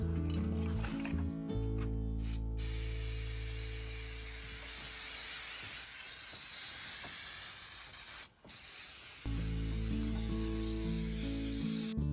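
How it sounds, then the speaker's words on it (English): A steady aerosol shellac spray hisses for several seconds while coating a wooden shelf, cutting out briefly near the end, with a low background hum underneath throughout. "To protect it, we will use this shellac spray."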